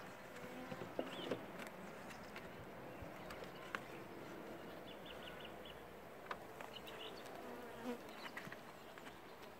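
Honeybees from an opened, queenless hive during spring preparation give a continuous buzzing drone, with occasional close passes and faint clicks and knocks, quiet overall and without talk.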